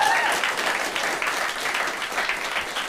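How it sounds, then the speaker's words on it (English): A live audience at a podcast debate event breaks into brief, loud applause that fades slightly and then holds across the room for a few seconds. "Those of you who think so, clap."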